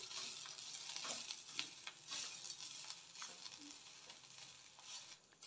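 Grated coconut stirred and dry-roasted in a pan for a chettinad chicken gravy, a steady close sizzling hiss with soft scraping strokes running throughout, no voices.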